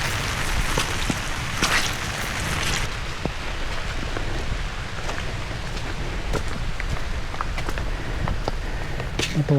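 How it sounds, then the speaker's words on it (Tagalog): Heavy rain pours on a riverbank where the ground is slowly collapsing, a dense steady hiss with scattered close drips and taps throughout. "Lumakas ang ulan."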